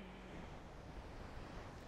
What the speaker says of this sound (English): connecting with this wonderful ocean behind us here in Laguna Beach